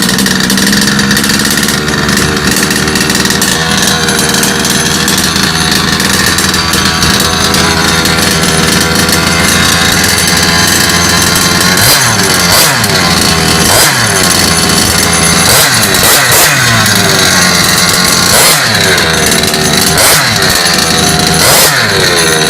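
An HPI Baja 5T petrol RC car engine, fresh from a clutch shoe replacement, runs loud and steady throughout, with repeated revving bursts in the second half rising and falling over the idle.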